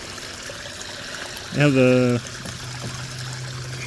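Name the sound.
water poured into a gold prospecting pan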